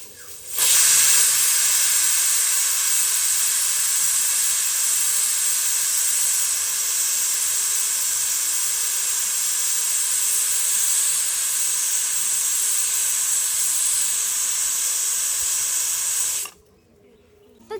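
Pressure cooker whistle sounding as steam vents while chicken cooks in a one-pot dish, a loud continuous hiss held steadily for about sixteen seconds and then cut off abruptly.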